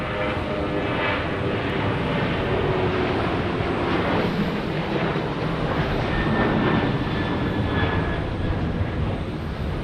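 Airliners departing Phoenix Sky Harbor airport, a loud, sustained jet engine roar with a steady broadband rumble and faint whining tones, no voices.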